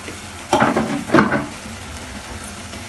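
Tomato paste drops into a pan of sizzling onions for mutton and okra, giving two close bursts of hissing and stirring, then a steady low fry.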